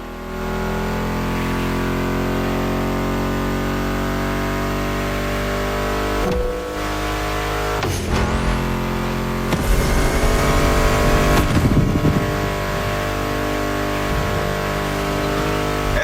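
Muscle car engines in The Crew Motorfest: a loud, steady engine drone with rising and falling revs, mixed under a music soundtrack, with brief shifts and a couple of sharp bursts partway through.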